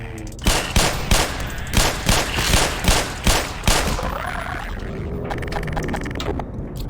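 Shotgun blasts in the video game Black Mesa, a rapid run of about ten loud booming shots in steady rhythm, followed by rumbling echo and fading ambient noise.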